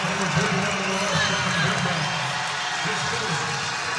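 Nevada fans in the arena at a college basketball quarterfinal raise a brief, sarcastic cheer, a broad crowd roar that swells under a commentator's voice.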